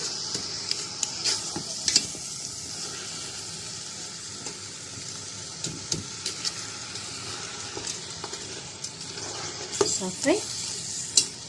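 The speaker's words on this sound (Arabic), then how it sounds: "ملي غادي تقلي علينا هاد العناصر اللحم والحمص والعدس" Meat, chickpeas and lentils fry for Moroccan harira in a pot, giving a steady close sizzle with repeated spoon stirs and scattered utensil clicks, while a voice speaks briefly.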